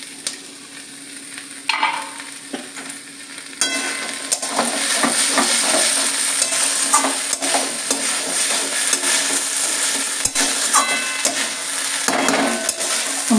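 Mixed vegetables fry in a pan with a steady, loud sizzle, broken by repeated scraping strokes of a spatula against the metal, alone without talk.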